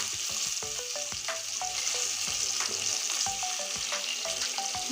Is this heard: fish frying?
yes